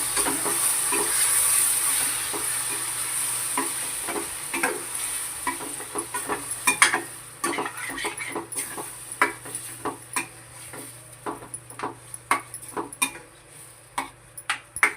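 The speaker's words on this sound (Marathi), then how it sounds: "मस्त वास सुटलाय लसूणच्या फोडणीचा." Garlic tempering sizzles in hot oil for a mango raita, a steady hiss from the pan with frequent clinks and scrapes of a spoon stirring against the metal.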